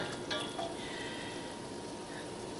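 Melted butter sizzles in a pan while cooking a cheesy turnip casserole, a soft steady crackling hiss that continues evenly with no voices.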